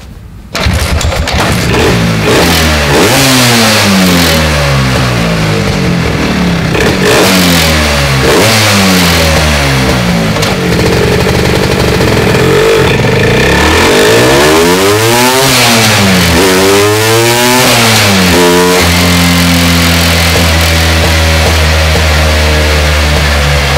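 A Vespa PX 125 scooter fitted with a Malossi 210 kit and a resonance exhaust revs hard and loud, climbing and dropping through repeated sweeping throttle blips before settling into a steady high drone.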